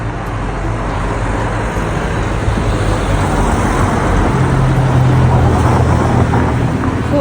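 Cars drive along a narrow street in a small, quaint English town, producing a continuous broadband roar of passing traffic with a low rumble, loud and steady throughout, without speech.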